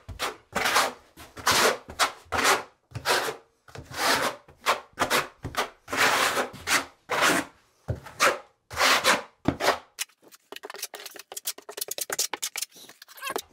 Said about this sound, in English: using the flat side of the trowel, I would recommend just burn it into the substrate.